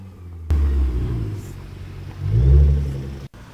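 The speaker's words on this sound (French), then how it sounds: "Il s'agit d'une petite Nissan GTR, une japonaise au moteur V6 comme vous le savez sûrement." Nissan GT-R with a V6 engine passing during the Tour Auto: low engine rumble swelling as it nears and peaking close by before cutting off, moderate loudness, no talking.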